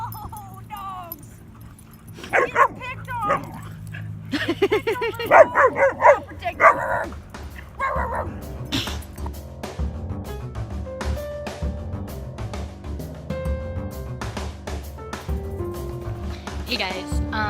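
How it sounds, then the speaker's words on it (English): Several dogs bark and yip in sharp bursts, with some whimpering, close by. People talk over and between the barks, and keys jangle. "Oh, dogs!"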